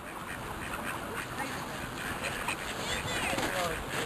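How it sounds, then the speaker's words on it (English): Ducks quack repeatedly on a small river over a steady background of flowing water and outdoor noise, with a person talking faintly at times. "We got the ducks in the river here"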